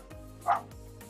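A single short bark from a household pet dog at a quiet home, heard once at moderate distance against a low steady background hum.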